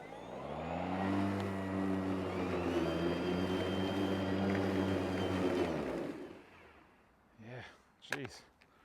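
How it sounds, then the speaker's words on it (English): An Ego Select Cut 21-inch battery lawn mower hums with a steady motor whine that winds down and stops around six seconds in, followed by a couple of brief vocal sounds nearby. "this Ego, unless you give it a second to ramp up into its quicker mode, it just stops, which I'll show you now"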